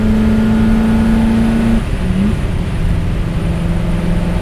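Superformance Ford GT40 MKII replica's engine droning steadily under load from inside the cabin, a loud sustained tone that drops in pitch at a gear change, then settles into a lower hum.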